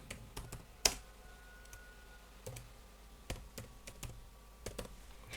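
Intermittent clicking of keys on a computer keyboard, a few sharp close taps scattered across a quiet room, with pauses between short bursts.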